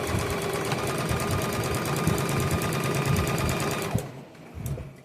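A sewing machine stitches quilt squares in a fast, steady mechanical chatter, close and loud, running for about four seconds before stopping with a soft clunk and quieter handling sounds.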